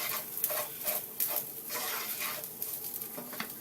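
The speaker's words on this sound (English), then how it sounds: "And stick in the seasonings. Our skillet's getting hot again." Seasonings being stirred into drained ground meat in a hot skillet, with a steady sizzle under repeated scraping strokes of a utensil against the pan, close and fairly loud.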